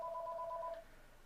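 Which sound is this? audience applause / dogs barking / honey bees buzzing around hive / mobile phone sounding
mobile phone sounding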